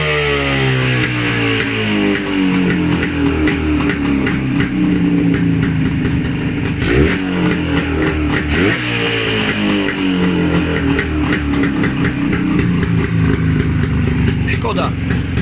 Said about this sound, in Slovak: idú otáčky troška dole, mierne sa zhorší pravidelnosť chodu motora.